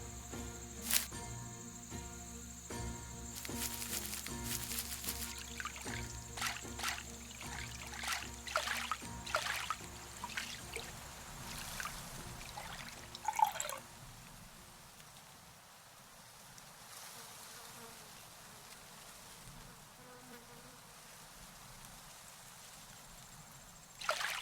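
Water trickles and patters continuously in a video game exploration scene, a steady soft wash like rain or a gentle stream, with faint chirps, fairly quiet throughout and quieter in the second half.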